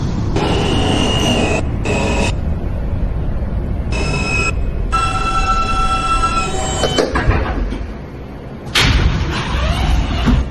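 A New York J local subway train running toward Broad Street, loud rumbling wheels with repeated high metallic squeals and screeching tones, a brief drop in noise, then a thud and renewed roar.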